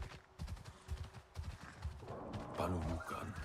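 A dire horse in Avatar Frontiers of Pandora picks its way over rocky ground, hooves clopping in an uneven rhythm close by, then a whinny-like call rises near the end.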